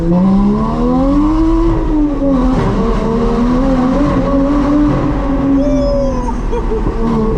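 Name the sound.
Porsche Boxster with aftermarket exhaust line accelerating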